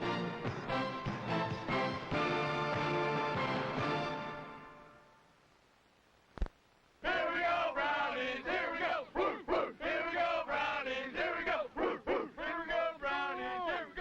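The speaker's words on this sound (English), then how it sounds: "you hear the crowd start to rev up and roar and start barking" A big 1987 Cleveland Browns football stadium crowd roars steadily, goes quiet, then breaks into loud, rhythmic barking chants and yelps that repeat in bursts.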